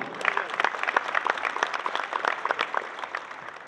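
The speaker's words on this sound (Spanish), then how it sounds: "Fuerte el aplauso." An audience claps warmly at the inauguration of a dairy expo in Aguascalientes, a continuous spread of crisp handclaps holding steady for several seconds.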